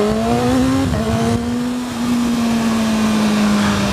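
A 2015 BMW S1000RR motorcycle pulls hard under acceleration, its engine a loud, close, high-pitched whine with a brief dip around a gear change before it climbs on steadily.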